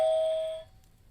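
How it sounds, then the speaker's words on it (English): A Kumospace app doorbell chime sounds once as someone enters the room, a clear, bright electronic tone that rings briefly and fades within about half a second, alone. "When other people enter the room, you'll hear a little doorbell sound letting you know that they are there."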